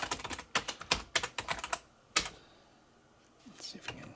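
Quick bursts of keystrokes on an unfamiliar computer keyboard, close and crisp, come in clustered runs, pause, then resume with a few lighter taps.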